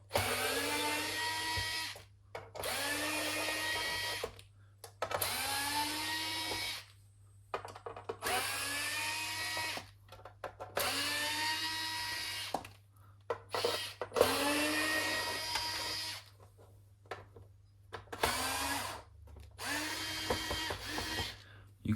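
A powered T10 Torx driver backs screws out of an Xbox One S console in a series of about eight short whirring bursts, each rising in pitch, with brief pauses between them, close and fairly loud.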